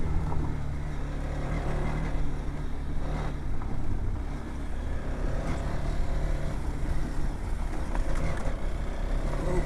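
A TVS Apache RTX 300 motorcycle rides off-road in rally mode with traction control off, its engine giving a continuous low rumble under steady wind buffeting on the microphone.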